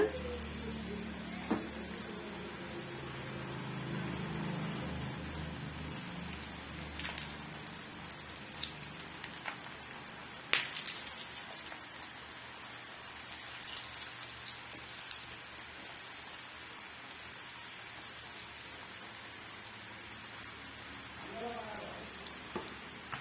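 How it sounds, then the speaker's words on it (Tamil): Bitter gourd pakoda pieces deep-frying in hot oil over medium heat give a steady, dense crackle and sizzle with small pops, continuous and fairly close throughout. "மீடியமான ஹீட்ல நல்லா பொரிச்சு எடுத்துக்கலாம்."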